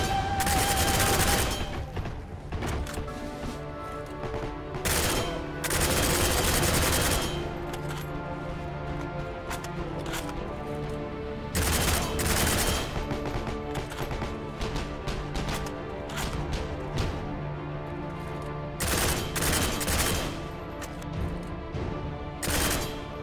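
Bursts of M1918 BAR automatic fire in the video game Heroes & Generals: four loud, rapid volleys about a second long each, spaced several seconds apart with quieter game ambience between.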